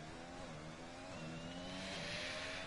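Steady, continuous video game race car engine drone at the Baku circuit with rising pitch, a high-revving whine sustained throughout, mechanical and uninterrupted.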